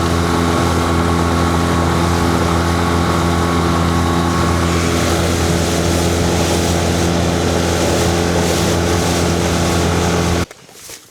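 An outboard motorboat engine on the Dnipro river drones loudly and steadily for about ten seconds, then cuts off abruptly near the end.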